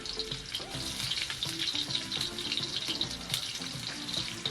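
Chopped onion sizzles and crackles steadily in hot oil in a pan, a dense, close frying hiss that continues without pause.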